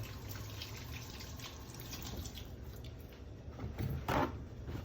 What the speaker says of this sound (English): I can now come over to the sink. I do have a raw egg, add a little soap, wash up